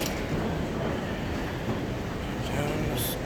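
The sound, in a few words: Denver airport terminal train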